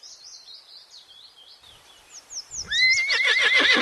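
A horse whinnies loudly in an alphabet rhyme for children, its high neigh rising and falling over a few seconds, preceded by faint bird-like chirps and ending in a stronger, fuller whinny with hoof-like clip-clop beneath.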